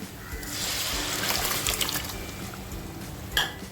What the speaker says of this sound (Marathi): आणि बघा गरम केलेलं थोडंसं पाणी टाकते आहे